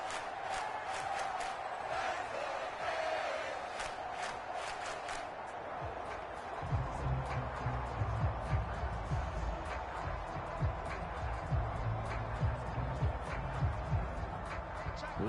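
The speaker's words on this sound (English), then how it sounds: "That just means this crowd's going to get even louder" Stadium crowd roaring in a PS4 football video game, a steady broad wash of cheering that swells louder partway through, with commentary talk over it.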